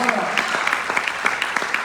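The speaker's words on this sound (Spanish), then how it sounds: "Vamos a dar un aplauso." A church congregation applauding at a Passover celebration service, brief steady clapping with individual sharp claps standing out, moderately loud, with faint voices beneath.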